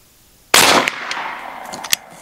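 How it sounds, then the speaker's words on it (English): An AEA Challenger Elite air rifle fires a single sharp, loud report, followed by a fading tail and a faint distant impact or clank about a second and a half later. "Final shot I'm going to take with this rifle."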